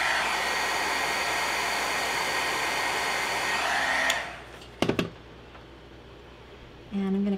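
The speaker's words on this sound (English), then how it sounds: "Hit that with my heat tool." A heat tool blows a loud, steady rush of hot air over a watercolor card for about four seconds, cuts off, and after a few light clicks and handling noises starts up again.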